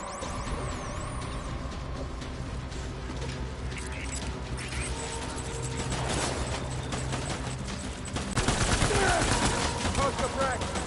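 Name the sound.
gunfire in the video game Death Stranding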